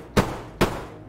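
Two gunshots crack in DayZ Standalone, evenly spaced about half a second apart, sharp and fairly close, each with a short decaying tail.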